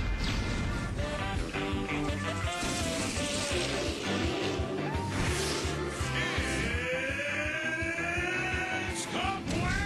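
A ska song, known as the KaBlam theme, plays loudly and steadily with dense horns, guitar and driving drums, the full band mix filling the whole stretch.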